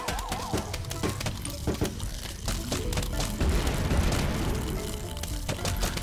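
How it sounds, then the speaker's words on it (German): Repeated booming blasts and crackling bursts fill the clip, loud and dense, with a short melodic tone at the start, like explosions in the game Plants vs. Zombies. "Es sind gleich mehrere schon explodiert."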